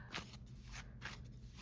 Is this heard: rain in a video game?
no